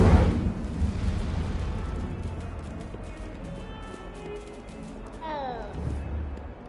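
Hogwarts Legacy's Incendio fire spell goes off with a loud fiery burst and whoosh, then fades into a crackling rumble. A short rising magical sweep follows near the end.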